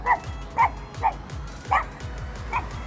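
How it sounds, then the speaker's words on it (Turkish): A dog barks at street dogs in five sharp, evenly spaced barks, loud and close, over a low background rumble. "Sokak köpeklerini havlıyor."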